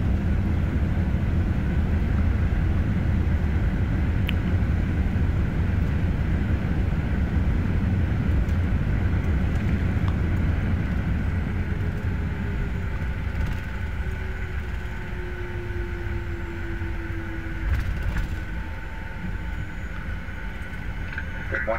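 Cabin noise inside an airliner just after landing at Boston Logan International Airport: a constant low engine and airflow rumble that eases slightly as the plane slows, with faint rattles.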